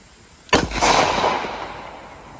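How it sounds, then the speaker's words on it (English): A handgun fired at outdoor shooting training gives a sudden loud, close report that rings out and decays slowly over about two seconds. "Draw, fire two rounds."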